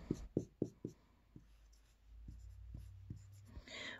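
A marker shades a tape diagram for fractions in a quick run of scratchy strokes, then a few slower, fainter ones, close and quiet.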